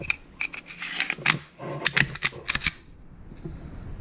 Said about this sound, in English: And then reassembly. Put your slide back on.